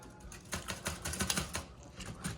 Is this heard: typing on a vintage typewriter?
yes